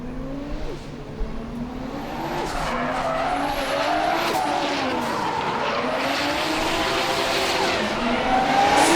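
A 500 horsepower Lexus IS 200 drift car in qualifying, its engine note climbing and falling through revs while the tires squeal and skid steadily, heard from a moderate distance.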